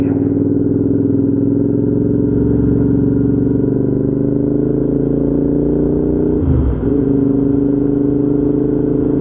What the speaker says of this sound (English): Being a 650, you have to rev it a little bit, you have to, you know, get it going